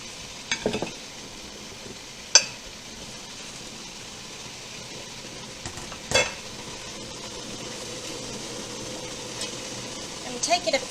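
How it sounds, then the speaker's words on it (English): Pineapple mango habanero jam heating in a pot toward a boil, a soft steady bubbling and sizzle with a few sharp clinks and stirring knocks scattered through, fairly quiet and close. "let that come to a boil"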